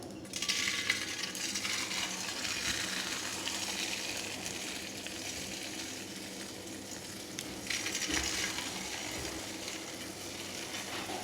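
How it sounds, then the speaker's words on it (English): Jalebis frying in hot refined oil, a soft continuous sizzle with fine crackle and a few sharp clinks, steady and fairly faint, with no voices. "Fry it from both the sides till crispy."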